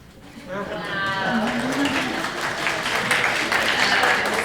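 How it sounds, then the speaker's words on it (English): Applause at a student debate event, with a voice rising in pitch as a crowd of hands begins clapping and swells into steady, dense, fairly loud applause mixed with cheering voices. "Can we also have a round of applause for our empty chairs?"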